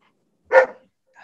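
A single short dog bark sounds close and fairly loud, then silence with only a faint trace after, in an otherwise quiet room.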